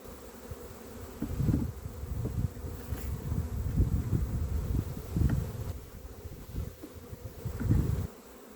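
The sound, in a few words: bees around an opened hive box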